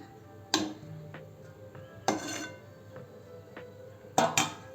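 A metal lid set over a cooking pot of rice-flour dough with the gas turned off, giving three sharp metallic clanks spaced a couple of seconds apart with a faint ring, close by, with no talking.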